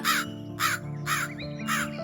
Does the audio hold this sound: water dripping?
no